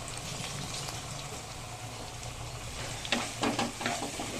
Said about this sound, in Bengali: এটাকে একটু এখন আমি ভেজে নেব